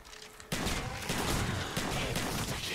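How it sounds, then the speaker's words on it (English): Rapid automatic gunfire from Call of Duty Black Ops zombies mode, Call of the Dead map, bursting in loud and dense after a quiet half-second and continuing as sustained rattling volleys. "Just keep shooting."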